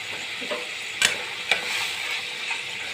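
Ginger garlic paste with turmeric and chilli powder frying in oil, giving a steady soft sizzle broken by two sharp stirring clicks, close and fairly quiet.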